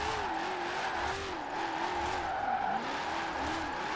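A car engine in Forza Horizon 4 holds high, wavering revs while the tires squeal and skid, a loud steady drone that runs unbroken through the clip with no talk.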